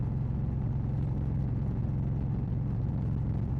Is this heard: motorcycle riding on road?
yes